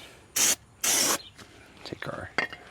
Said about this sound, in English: Let's spray this surface again here.